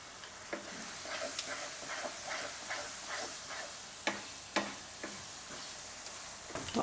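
Boiled wheat is stirred in a pan over a gas flame: repeated soft scraping strokes in an uneven rhythm over a faint, steady sizzle, with no talking.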